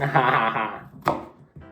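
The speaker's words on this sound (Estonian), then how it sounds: "Haki nüüd. Noh, ruttu. Järgmine peekon." Onion and bacon being chopped on a cutting board, with a sharp knife strike and a later tap following a louder stretch of sound, close up.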